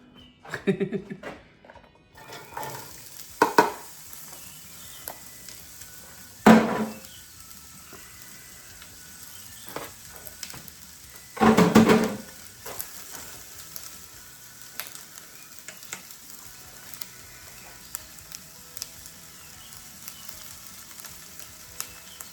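Burrito steak sizzles in hot oil with a continuous hiss, broken by a few louder bursts and clatters as the pieces are moved around.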